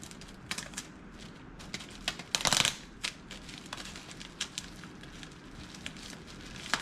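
Small piece of tape torn and peeled off a roll while packing an item for shipping, giving a brief crackly rip amid soft, scattered handling clicks and rustles at low level.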